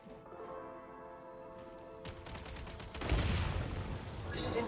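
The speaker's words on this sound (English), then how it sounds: "Shoot the explosives to detonate them and clear the path" Gunfire and detonation sounds while shooting explosives to clear a blocked path in the video game Genshin Impact, set in a shadow realm; a rapid crackling burst starts midway and swells into a louder boom-like rumble over steady background music.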